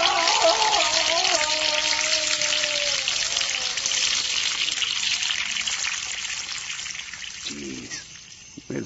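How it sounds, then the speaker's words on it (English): Holy water splashing and trickling as a radio drama sound effect: a steady wash of running, gushing water throughout, easing off toward the end, with a few brief sharper sounds near the close. "It's water from the old baptismal pool, Master. It's holy water."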